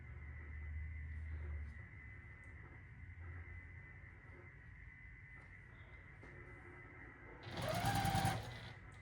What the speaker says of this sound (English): I decided I wanted to sew it this way